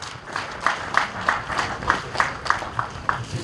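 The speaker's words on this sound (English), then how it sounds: "A resounding round of applause." A crowd at a Nigerian Navy barracks commissioning ceremony in Makurdi, Benue State, claps in a steady, rhythmic round of applause, with evenly spaced beats that hold throughout at a moderate level.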